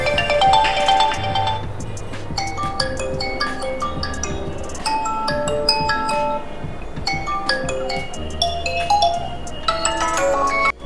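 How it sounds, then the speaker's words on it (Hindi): A phone ringtone melody plays through the single speaker of a Vivo V30 Pro, with bright chiming tones and a bass line running continuously for about eleven seconds, with no talking. "यहाँ पे फोन रिंगटोन में गया और कोई भी रिंगटोन में सेलेक्ट कर रहा हूँ"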